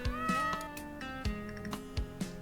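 A cat in the video game Martial Law meows repeatedly, several drawn-out plaintive calls at moderate volume with soft footstep-like thumps between them.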